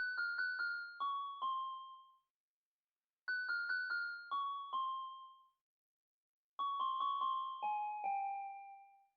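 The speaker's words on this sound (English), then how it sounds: "So the next sound that I added was this one shot pluck that sounds like this." Short plucked one-shot synth notes play a simple descending top-line melody in three repeated phrases, each a quick run of bright, bell-like plinks separated by brief silences, clean and alone.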